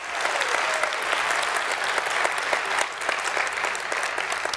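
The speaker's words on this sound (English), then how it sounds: "So can you give them a round of applause?" Steady applause from an audience, dense clapping that holds at an even level throughout with no talking over it.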